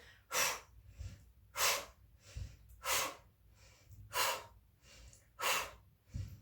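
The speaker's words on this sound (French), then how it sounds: "on inspire, on expire" Slow, deliberate breathing during a gentle yoga abdominal workout, with five breaths spaced evenly about every second and a quarter. Each is a strong, airy exhale that stands close and alone, with quieter inhales between them.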